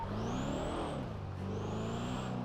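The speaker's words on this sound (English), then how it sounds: "It's gonna be a white electric car, probably leaving Legion now." A white electric car accelerates away in GTA V FiveM roleplay, a rising whine sweeping upward, dipping briefly, then climbing again over a low mechanical hum, close and fairly loud.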